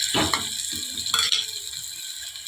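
Sardine curry with chili, coriander and turmeric powder being stirred in a pan, giving two or three brief scraping strokes over a steady sizzling hiss.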